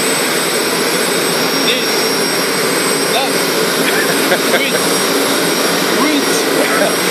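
Gazelle helicopter turbine engine running on a private parking area before takeoff, a loud steady high whine and roar filling the clip, with a person counting down briefly over it.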